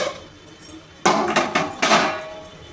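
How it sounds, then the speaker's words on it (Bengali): A metal lid comes off a pan of potato, pointed gourd and prawn curry in a home kitchen, giving a sharp clank and then a few clinks and scrapes close by. "এবার ঢাকাটা খুলে নেব"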